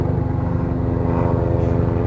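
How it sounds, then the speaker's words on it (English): A helicopter drones overhead outdoors, a steady loud low throbbing hum with a pulsing rotor rhythm and no speech. "I wish that helicopter would bugger off"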